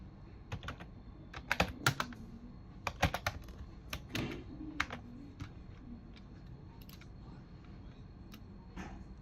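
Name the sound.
typing text on a computer keyboard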